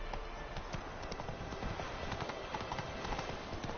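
Geralt's horse Roach from the video game Witcher 3 trots with a steady, dense clip-clop of hooves, close and continuous throughout, with no talking over it.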